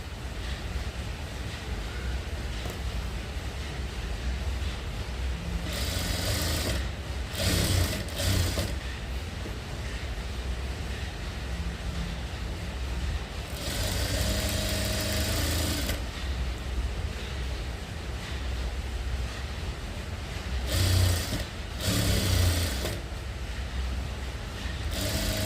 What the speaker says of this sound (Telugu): నెక్ వేసుకున్నాక సేమ్ బాటంలోను స్టిచ్ చేసుకోండి.